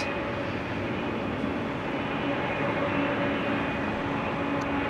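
Airliner engines run steadily at Amsterdam Schiphol Airport, giving a constant broadband roar with faint steady tones, heard from a distance and without speech.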